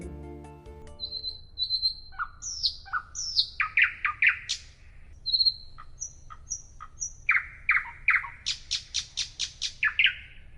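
Nightingales sing in a clear, close series of varied whistles, trills and repeated chirping phrases, bright and rhythmic against a low steady background hum, with no voices.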